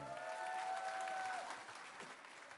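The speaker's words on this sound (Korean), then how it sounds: "이럴 때 박수 한번 주세요" An audience at a TV music show applauds, a soft, steady wash of clapping that fades slightly toward the end, with a brief high tone and faint voices early on.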